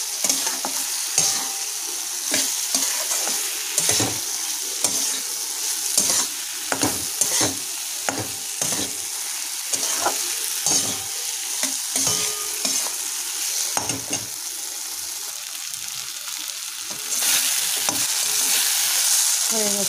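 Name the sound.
stirring fried potatoes into fish curry in pan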